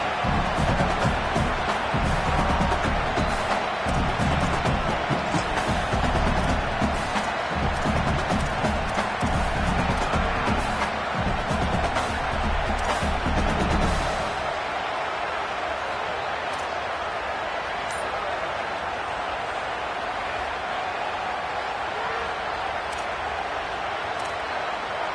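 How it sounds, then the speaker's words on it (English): Stadium crowd noise from an Oregon vs Auburn college football video game fills the clip as a loud, dense roar. It stays heavy for about fourteen seconds, then eases to a lighter steady murmur. "This crowd trying to do its part to get inside the kicker's head."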